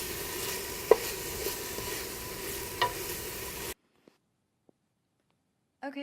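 Vegetables sautéing in a pot with salt and pepper for a roasted butternut squash soup, a soft steady sizzle with a couple of stirring knocks, then it cuts to near silence with brief faint clicks.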